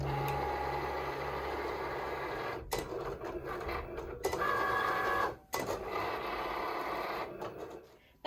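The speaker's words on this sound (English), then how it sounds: "I will click the flashing Cricut button and send my design to cut" A Cricut cutting machine cuts heat transfer iron-on vinyl, giving a steady mechanical whir and buzz of the carriage moving back and forth, broken by brief clicks and pauses, quiet and close.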